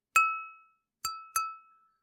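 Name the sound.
glass struck for sound design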